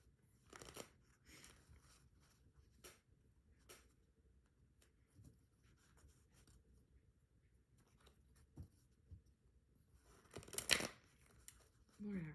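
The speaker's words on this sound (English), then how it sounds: "These cards are so big, it's so hard for me to shuffle them." Soft, intermittent shuffling of large tarot cards with scattered riffles and taps, quiet overall, with a louder burst of shuffling near the end.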